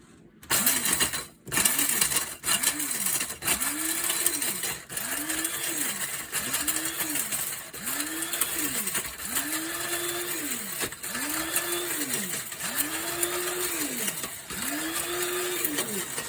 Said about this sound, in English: Usually I try to grind it in about 3 batches.